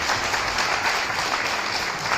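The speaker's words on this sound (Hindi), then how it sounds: "उनके लिए भी जोरदार तालियां होनी चाहिए।" Steady, loud crowd applause fills the space without pause at a camp gathering, honoring a commerce college principal, a continuous broadband roar of many hands clapping.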